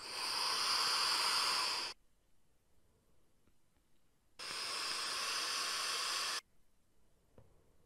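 An OBS Damo atomizer fired at 50 watts, near its coil's limit, gives two long, loud, steady hisses of about two seconds each, separated by quiet pauses, with no talking.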